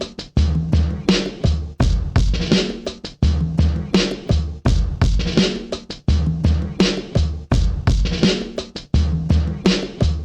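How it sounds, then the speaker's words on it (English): Layered drums combine percussion, a chopped drum break and extra kicks into a loud, hard-hitting groove that repeats in a steady looping rhythm with no voices. "the drums all together are going to sound like this"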